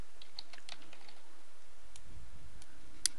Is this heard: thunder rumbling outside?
no